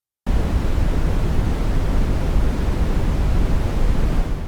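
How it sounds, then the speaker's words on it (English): Steady brown noise starts after a brief silence, a deep, heavy, constant hiss weighted toward low rumble that continues evenly without change. "brown noise is different. It sits much lower in the frequency spectrum, deeper, heavier,"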